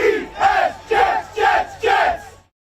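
A crowd at a New York Jets training camp chants in unison, four loud rhythmic bursts evenly spaced about half a second apart, then cuts off into silence.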